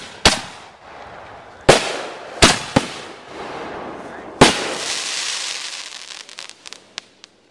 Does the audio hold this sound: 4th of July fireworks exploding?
yes